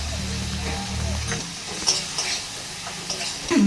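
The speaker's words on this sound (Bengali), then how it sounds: "মশলাটাকে একটু জল দিয়ে কষিয়ে নেব।" A spice paste with turmeric and a splash of water sautés in a pan, a soft steady sizzle with occasional scrapes and light clicks of a spoon.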